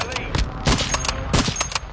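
Gunfire bursts in Modern Warfare III: a few loud, rapid volleys of shots spaced across a couple of seconds over busy game sound, with voices in the background.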